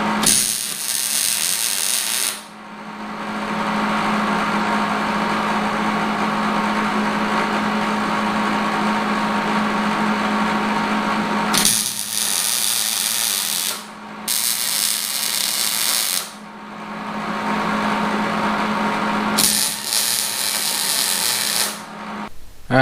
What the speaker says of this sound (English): then I got to smooth these metal pieces down.